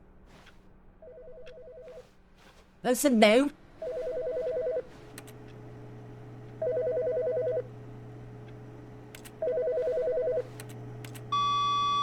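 In The Stanley Parable video game, a telephone rings in repeated electronic bursts at regular intervals against a low hum, with a brief spoken phrase and a short musical flourish partway through.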